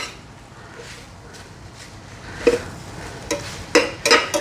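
Sausage, peppers and onions sautéing in a pan over high heat, a soft steady sizzle broken by several louder stirring scrapes and clatters toward the end, close by with no talking.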